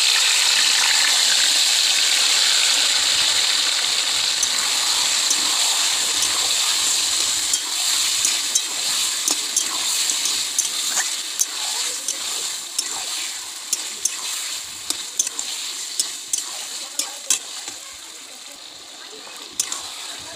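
Marinated meat dropped into a hot pan, a loud hissing sizzle that slowly fades while scattered crackles and pops keep breaking through.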